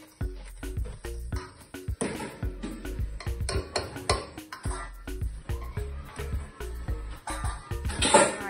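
Sugar cookie dough being stirred in a bowl, a busy run of clinks, scrapes and knocks from a utensil against the bowl in an uneven rhythm, close and fairly loud.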